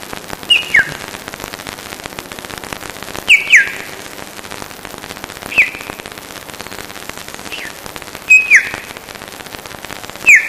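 A person imitates a bird call by whistling at a bird-whistling contest in Dominica: sharp, bright whistled chirps in short bursts, about five of them spaced a couple of seconds apart, heard alone over a faint, steady background.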